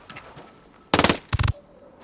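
Automatic gunfire in the Ghost Recon Wildlands video game during a checkpoint assault on Sicario cartel guards: one loud sustained burst, a brief pause, then a second rapid burst of shots, all over a quiet ambient background.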